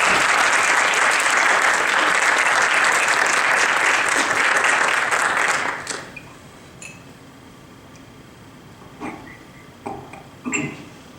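An audience at a panel on the nature of love claps to welcome three panelists. The loud, dense applause lasts about six seconds and then stops abruptly, leaving a quiet room with a few scattered knocks and faint shuffles.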